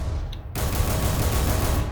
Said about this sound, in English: it now fires a heat cannon